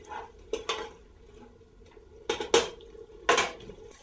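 A spoon stirs risotto in a pot, giving a few sharp, separate scrapes and metallic clinks spaced out over a few seconds, close and fairly loud, with no voices.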